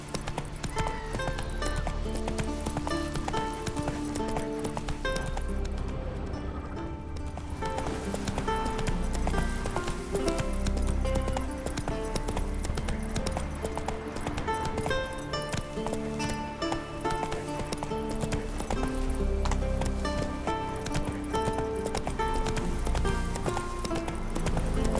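Roach the horse gallops through The Witcher 3, steady hoofbeats running beneath a dense bed of game music and ambience, loud and continuous for the whole stretch.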